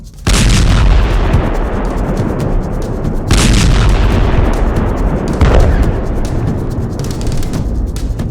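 Artillery shell fire in the streets of Gaza: heavy, loud booming blasts, with several sharp impacts rising out of a continuous roar of rumbling bombardment, and no talk.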